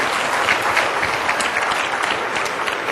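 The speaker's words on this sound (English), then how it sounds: "can we get one last round of applause for our panelists" Audience applause for panelists at the 2nd Annual Take Our Kids To Lunch event, a dense, steady round of clapping from a sizeable crowd, close and loud throughout the three seconds with no talk over it.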